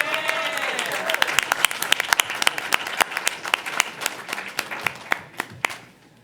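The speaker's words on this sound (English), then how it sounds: "Y'all give them a big round of applause." A crowd at a city council meeting in Savannah applauds a group of champion athletes, sharp individual claps standing out over a steady wash of clapping that gradually thins and trails off, with a voice briefly heard at the start.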